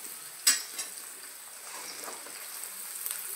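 Khichdi tempering with asafoetida being stirred in a pan gives faint scraping and a soft sizzle, with one sharper utensil clink near the start and low, quiet kitchen ambience throughout.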